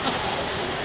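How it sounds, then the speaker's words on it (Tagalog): Sudden rain falls on Ma Wan Island, Hong Kong, as a dense, continuous hiss, loud and close throughout the short moment. "Ayan, sakto, umuulan na."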